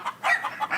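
Chickens clucking close by alongside pet ducks, a few short bursts of busy, loud fowl chatter in quick succession with no talking.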